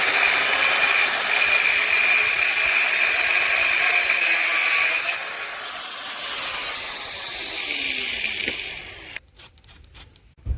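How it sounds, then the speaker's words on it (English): An angle grinder cuts through Corsa B coilover springs, a loud continuous high-pitched whine and grinding rasp close by that shifts in pitch, then cuts off into brief stuttering bursts near the end. "So I'm going to stop waffling and get the grinder out."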